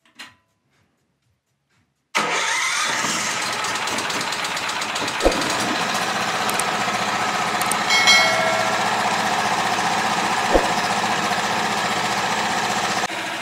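A petrol generator fitted with a speed regulator idles steadily after starting, its engine note loud, close and continuous with an even mechanical hum, preceded by a short silence and broken by a couple of sharp clicks.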